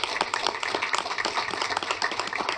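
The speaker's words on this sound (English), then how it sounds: "a shout out and a round of applause for our people from Brevard" A round of applause at a commission meeting rises as a dense, steady patter of many hands clapping together, moderately loud and continuous throughout.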